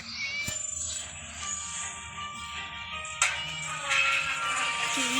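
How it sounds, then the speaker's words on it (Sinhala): A cat meows in the video game Scary Teacher 3D, a few tonal cries over a dense layer of game music and effects, fairly faint and without talking. "පූසෙක්ව හිරගෙන තියාගෙන"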